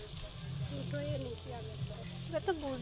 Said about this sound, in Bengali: এই দেখুন এই যে এরকম ভাবে সবগুলো লাল লাল করে ভেজে নেব